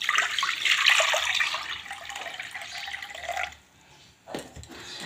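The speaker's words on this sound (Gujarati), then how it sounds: "ખાંડીના અંદર આપણે પાણી રેડીશું." Water pours from a vessel into a clay pot while gruel is being cooked, a steady close splashing gush that thins out and stops, then a short final splash, with no talk.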